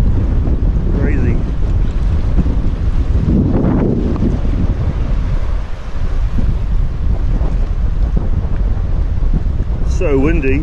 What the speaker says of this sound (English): So windy, far out.